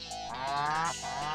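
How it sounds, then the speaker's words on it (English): A cow moo sound effect from the Animal Crossing video game, one drawn-out lowing call of about a second and a half that dips briefly near the end, heard clearly on its own. "I would love one that sounds like a cow."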